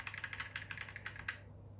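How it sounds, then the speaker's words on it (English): An HP GK100 mechanical gaming keyboard being pressed, a quick run of about a dozen crisp, close clicky keystrokes in fairly steady rhythm that stops abruptly, over a faint low hum. "so how you adjust the brightness of the keyboard"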